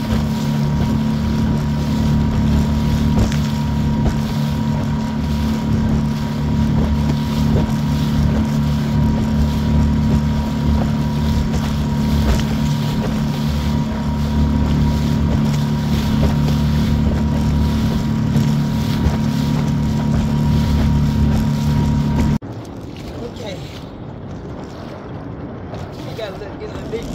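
A Pelican Bass Raider 10E fishing boat motoring across choppy Lewisville Lake in high winds, a loud steady engine drone with wind buffeting the microphone, cutting off abruptly near the end to quieter wind noise.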